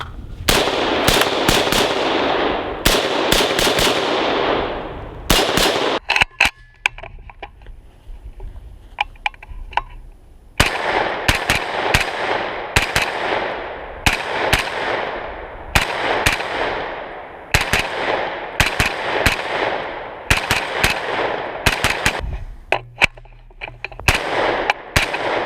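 A Faxon ARAK 21 XRS rifle fires outdoors at a range in loud, sharp shots, some spaced singly and some in quick strings, each followed by a brief echo.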